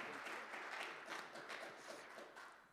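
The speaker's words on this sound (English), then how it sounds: "Let's give Tony O one more round of applause." A faint, distant round of steady applause rises from the audience at a boxing press conference for Jamal James vs. Abel Ramos.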